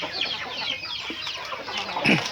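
Chickens clucking in the evening while being fed rice, a continuous close flock chatter of overlapping clucks with a louder cluck near the end.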